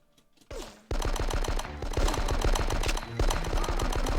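Rapid automatic gunfire in the Die Hard: Nakatomi Plaza video game, a sustained close, loud burst of shots that starts after a short quiet moment and runs nearly unbroken, with a brief dip before it resumes.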